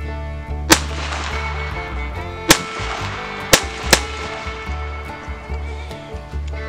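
A Colt Service Model Ace .22 pistol test-fired outdoors, four sharp, spaced gunshots over a steady low engine-like rumble.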